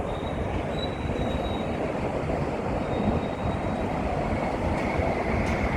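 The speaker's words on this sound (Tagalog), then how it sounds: "Ayan ang express train." A blue express train heading toward the city passes steadily below a rooftop in Tung Chung on Lantau Island, Hong Kong, with rumbling wheels and a faint squeal throughout and no talking.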